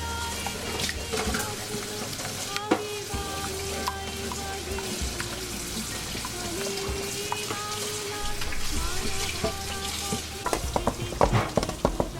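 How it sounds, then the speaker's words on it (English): Curry leaves and red chilies fry in hot oil with a loud, crackling close sizzle and frequent stirring scrapes and clinks, busier toward the end. "Let's fry some curry leaves with red chili."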